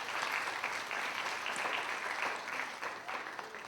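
Sustained applause from a graduation crowd at a magnet high school, dense steady clapping that holds at an even level for the whole stretch without a break.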